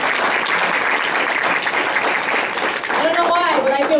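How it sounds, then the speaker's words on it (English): A training event audience breaks into loud, sustained applause, a dense continuous wall of clapping, with a voice cutting in over it near the end. "So can we give them a round of applause?"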